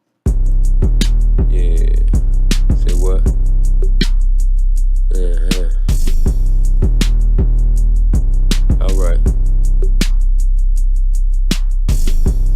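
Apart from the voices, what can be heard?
drum beat with crash cymbals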